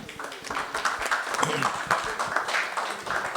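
An audience at an iftar program applauds a guest, sustained clapping from many people that carries on throughout, with a voice talking over it.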